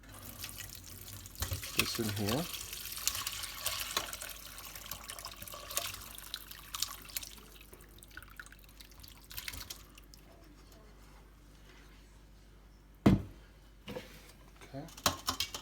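Liquid from a pot roast poured through a fine kitchen strainer into a sink area, giving a steady close splashing pour with drips, broken by occasional clatter and talk.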